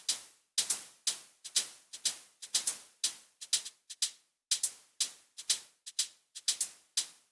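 A hi-hat processed with ShaperBox noise for an electronic beat ticks in a steady, crisp rhythm, each bright, close hit decaying quickly, with occasional faster doubled hits and no other sounds.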